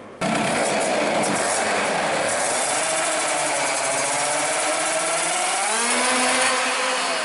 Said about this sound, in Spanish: El sonido de la moto nos decía que era gradual hasta llegar a las máximas revoluciones